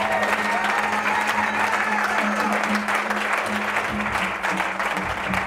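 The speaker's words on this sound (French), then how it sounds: "Acclame très fort le Seigneur." A church congregation applauds loudly and steadily throughout, a dense continuous wash of clapping with a sustained held tone running underneath and scattered voices mixed in.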